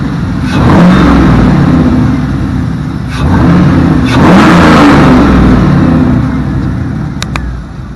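The V8 in an LS-swapped Jeep Cherokee revs loudly from close range, rising and falling in two main surges with a steady rough idle between them.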